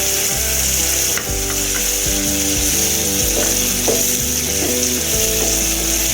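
Tomato puree simmering in a pan for Tamil raw banana fry (vazhakkai poriyal), a steady loud sizzle that runs without a break under a repeating melodic background tune, with no talking.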